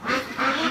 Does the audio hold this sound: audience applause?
no